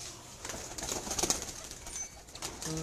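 Pigeons on a rooftop coo faintly with occasional wing rustles, soft intermittent calls at moderate distance with light background noise.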